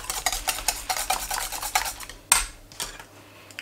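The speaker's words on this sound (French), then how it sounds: "Il n'y a plus qu'à mélanger avec les légumes" Chard flan batter being stirred together with vegetables in a dish, a spoon scraping and clinking in quick repeated strokes, close and moderately loud with no talking.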